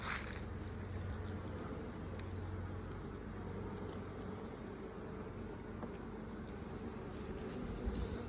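Honey bees droning continuously around an open beehive during a check of honey stores, a steady close buzz with faint knocks and rustles now and then.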